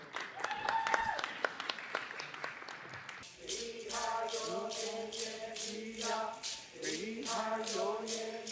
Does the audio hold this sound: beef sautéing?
no